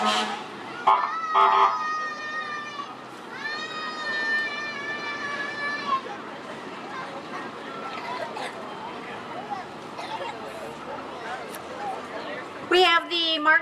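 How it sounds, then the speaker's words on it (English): An ambulance siren from Martin County Fire Rescue passes in a Veterans Day parade, its wavering, sweeping tone rising over steady outdoor crowd noise, with a brief louder burst near the end. "And Martin County Fire Rescue, ambulance."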